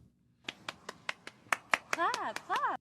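About ten sharp hand claps ring out in a steady rhythm, close and fairly loud, with an expressive voice cutting in over the last few.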